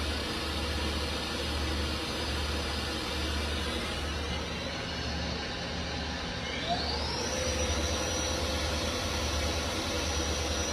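A Milltronics TRM30HT CNC machine's spindle runs at 2,500 RPM with a steady, faint hum under broadband machine noise. A rising whine sweeps upward partway through.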